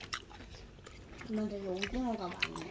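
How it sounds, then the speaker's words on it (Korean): Close, quiet chewing of delivered meat, soft wet mastication with faint bites, brief voiced murmurs from the eater during the chew. "고기 한번 먹을까요? 고기도 되게 많이 들어있어."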